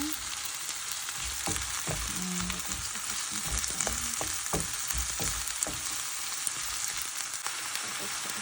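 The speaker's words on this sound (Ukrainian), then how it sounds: "І нашу кропивку ми відправляємо до цибульки обсмажуватись. Все це ми добренько помішуємо." Nettles and onion fry in a pan with a steady, moderate sizzle, while a utensil stirs them in scattered scraping knocks. No one speaks.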